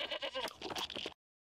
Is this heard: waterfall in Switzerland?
no